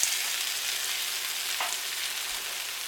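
Potatoes sizzle steadily in a hot frying pan for a chicken dish, a close, even hiss of bubbling oil with no voices.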